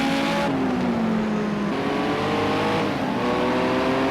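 Group 5 race cars in Project Cars 2, raced at Raupuna, rev loudly and continuously with rising and falling engine pitch as the pack runs close together through the race.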